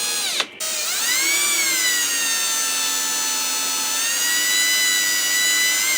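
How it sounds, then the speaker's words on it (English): A cordless drill twisting wire for stained glass whirs steadily at high speed, its pitch rising as it spins up and holding a continuous whine, close and loud, with no talking. "we're going to be turning the drill to the right, and we're going to gently squeeze the trigger"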